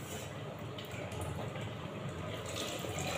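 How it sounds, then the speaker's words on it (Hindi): Water poured into a pot of boiled chickpeas, a steady soft splashing and trickling that runs continuously for a few seconds at low volume. "इसमें पानी डाल दिया है"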